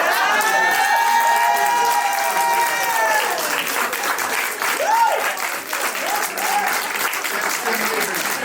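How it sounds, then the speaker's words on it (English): A live-broadcast crowd at the Disney Dreamers Academy bursts into loud, continuous applause with scattered cheers and whoops, voices calling out over the clapping. "Another round of applause."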